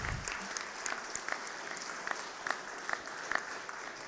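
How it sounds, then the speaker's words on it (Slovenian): Audience applause at a public panel discussion on Europe's future, a steady patter of many hands clapping throughout, fairly soft and somewhat distant, with a few sharper claps standing out. "Zaploskajte"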